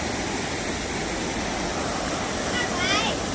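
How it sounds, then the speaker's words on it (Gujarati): Waterfall at Osam hill near Patanvav, a constant broadband rush of falling water that stays steady and loud, with a faint chirp-like sound near the end. "જો અહીંયા પાણીનો ફૂલ ધોધ પડે છે"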